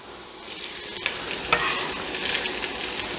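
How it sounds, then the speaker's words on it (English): Onions and peppers fry in a pot with a constant bright sizzle, while spoon scrapes and small clinks of stirring stand out every so often, close and fairly loud, with no talk. "so we can get our veggies starting to fry up"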